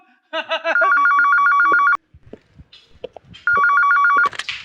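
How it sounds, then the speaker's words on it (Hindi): A telephone rings close by in two bursts of rapid trilling tones, with a short gap of quiet rustling between the rings. "एसीपी साहब का फोन।"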